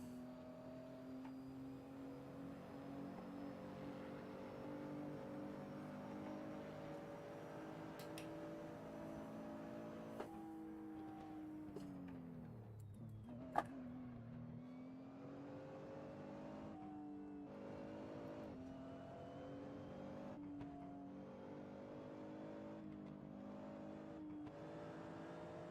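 Nissan GT-R engine in the Assetto Corsa racing game, a steady droning whine that holds, dips sharply around mid-run with a shift-like drop, then climbs and sustains again, with a few faint clicks and no talking.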